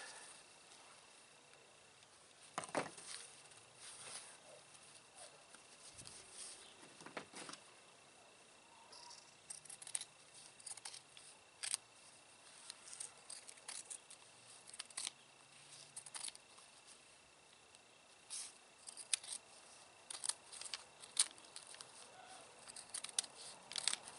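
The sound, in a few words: scissors cutting fabric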